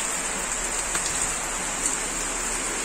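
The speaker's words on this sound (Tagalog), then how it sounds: "Lumakas ang ulan, ha?" Heavy rain pours steadily in a dense, even hiss with scattered drops pattering on surfaces, close and continuous with no voices.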